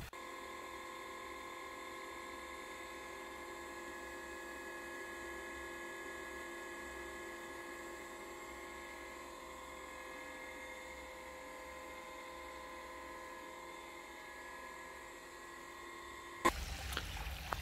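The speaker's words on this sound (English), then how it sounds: "Now I'm going to show you the pump as well." A 72-watt, 0.75-horsepower solar-powered DC swimming pool pump runs directly off the panels, giving a steady, even hum with a constant whine. It holds unchanged for most of the stretch, then a couple of louder bumps come near the end.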